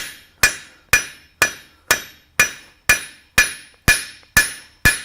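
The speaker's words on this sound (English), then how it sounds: "we're going to start with the cross peen of the hammer, starting in the center" Ringing blacksmith's cross peen hammer strikes on metal being forged, ten evenly spaced blows about half a second apart, each loud and sharp with a brief bright ring.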